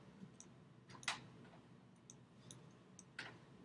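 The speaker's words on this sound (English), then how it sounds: "You can hear my clicks if I stop talking" A computer mouse clicks sharply several times, spaced irregularly, while someone clicks and drags to draw lines, quiet and close in an otherwise hushed room.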